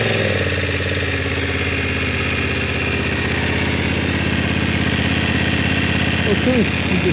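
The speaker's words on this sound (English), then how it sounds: "I'll start it up and let you have a listen to it." A BMW F900R motorcycle engine runs at a steady, close, loud idle with a constant throbbing rumble and no change in pace throughout.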